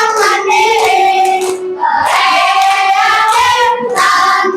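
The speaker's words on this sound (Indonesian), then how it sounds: "tepuk tangan dulu semuanya" Classroom of students clapping their hands together in a teaching session, loud, dense applause in three bursts with brief pauses between, no talk over it.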